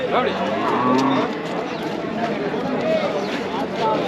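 Draught bulls at a rural cattle market in Vaniyambadi give loud lowing moos over a busy crowd, with people talking throughout and animals moving nearby.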